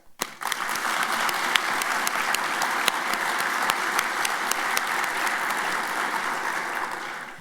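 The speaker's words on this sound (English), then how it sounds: "please join me in a warm round of applause for all of tonight's contestants" A gala audience at the INFORMS Franz Edelman event gives a warm, sustained round of applause for the contestants. Many hands clap in a thick, even wash, with a few sharper individual claps standing out until it tapers at the end.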